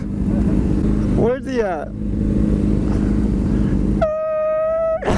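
A motorcycle roars in second gear while doing a wheelie, its loud, steady engine rush close by, broken by a sustained tonal whine near the end, with people talking excitedly over it.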